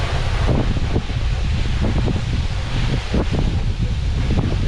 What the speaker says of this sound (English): Feel a lot of wind from it.